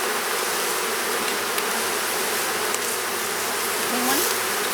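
Honey bees buzz in a dense, continuous drone at an opened hive, close and steady throughout, with occasional individual bees passing nearer.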